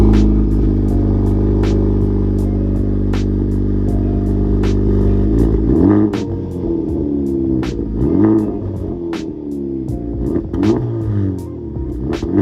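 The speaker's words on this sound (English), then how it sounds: "so this is what it sounds like with no downpipe" A 2023-or-later Honda Civic Type R fitted with an AWE Touring exhaust and no downpipe rumbles loudly at idle, then revs several times with sharp rising and falling sweeps. The sound is close and runs without any talk.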